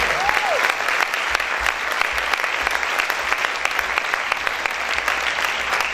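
A church congregation claps loudly and steadily for about six seconds, a dense, sustained wash of applause with a brief voice-like tone rising near the start.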